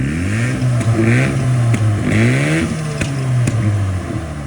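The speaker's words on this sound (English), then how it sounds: "give her some revs real quick" A Mazda RX-7 GSL-SE engine revs up and down repeatedly, its pitch rising and falling in several sweeps, loud and close with a steady rotary drone underneath.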